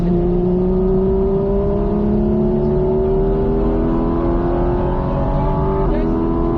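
Porsche 718 GT4RS engine pulling hard on a race circuit, a loud steady roar with pitch climbing smoothly throughout, close and continuous with a brief shift near the end.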